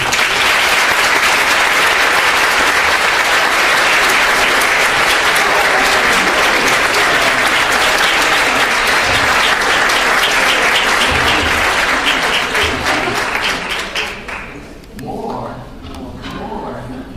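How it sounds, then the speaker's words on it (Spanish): Loud, sustained audience applause at a lecture on genetics and epigenetics, dense clapping filling the room for about fourteen seconds before it thins out and gives way to nearby speech. "les pido para él entonces un gran aplauso y le doy las gracias."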